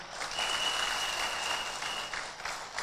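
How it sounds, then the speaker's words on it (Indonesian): An audience at an event claps loudly and warmly. The dense, steady applause continues for a few seconds, and no one speaks over it. "Aplaus yang meriah buat Bapak Arsad Fadlan yang di Bone."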